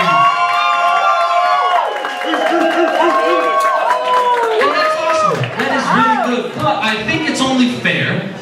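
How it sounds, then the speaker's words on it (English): Wedding guests at a reception cheer, whoop and clap loudly together under amplified music and a host's voice, a dense, lively crowd roar sustained throughout. "make some noise for me. Clap those hands."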